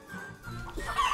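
A chicken clucks in short, soft bursts, fairly close and alone, with a hypnotist's demonstration of calming the bird as the setting.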